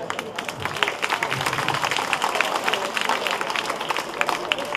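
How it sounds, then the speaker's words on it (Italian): Audience applause at a live Over 50 variety show in Vaiano, dense continuous clapping throughout, loud and close, with some crowd voices mixed in. "Un applauso, eh!"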